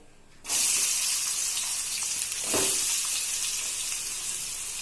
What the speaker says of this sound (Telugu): అది హీట్ అయిపోయిందండి ఇప్పుడు మనం ఆనియన్స్ వేసుకోవాలి